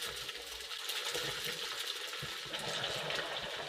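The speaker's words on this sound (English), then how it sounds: "Almost immediately, it started bubbling, and the reaction slowly got more and more violent." A chicken drumstick reacting in piranha solution inside a beaker, giving a steady, dense fizzing and bubbling that stays fairly loud and even throughout, with no voices.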